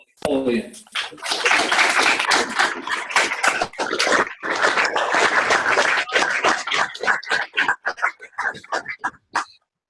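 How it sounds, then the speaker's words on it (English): Audience round of applause welcoming a Pro Football Hall of Famer at a Hall of Fame student event, loud sustained clapping that breaks into scattered individual claps and trails off to silence near the end. "if we could all please give a warm Hall of Fame round of applause"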